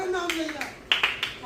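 A prize announcement draws a brief burst of applause from the audience, a few sharp claps rising over a voice that runs under and around them.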